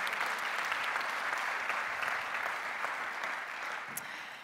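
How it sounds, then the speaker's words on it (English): Audience applause for the speakers and guests at a public panel discussion on shifting to a hydrogen economy: a dense, steady wash of many hands clapping, filling the room evenly and tapering slightly near the end. "So maybe a round of applause for you and for our guests."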